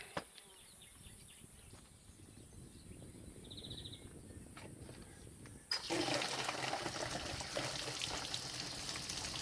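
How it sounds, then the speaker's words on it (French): Running water in a small village near a little cemetery at Durban-Corbières, a steady outdoor trickle that suddenly swells into a louder, fuller rush partway through, with faint insect buzzing in the background. "et il y a de l'eau."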